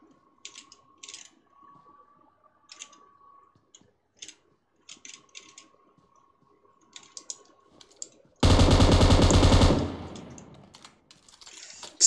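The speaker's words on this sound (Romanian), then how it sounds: "Ce trage arma asta" Automatic weapon fire in PUBG Mobile: a single loud, dense burst of rapid shots lasting about a second and a half, standing out sharply after a stretch of faint clicks and quiet game ambience.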